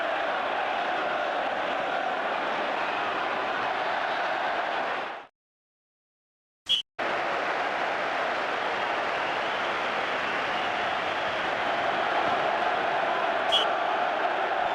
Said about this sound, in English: The crowd are anticipating a great match.